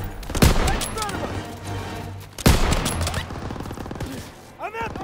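Machine gun fire in Call of Duty: WWII, two heavy booming bursts of rapid shots about two seconds apart, loud and close, with continuous battle noise and voices speaking underneath.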